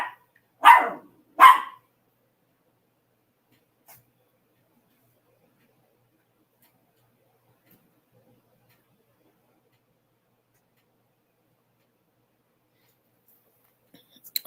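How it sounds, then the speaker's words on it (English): A small puppy lets out two quick, sharp barks close by near the start, followed by long near-silence and a faint tick at the end. "I think I heard the sweet little pup growling."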